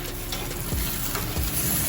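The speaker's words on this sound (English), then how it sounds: "Look at that sizzle." A thick steak sears on a hot grill, giving off a dense, even crackling sizzle with small pops, close and continuous throughout, no voices.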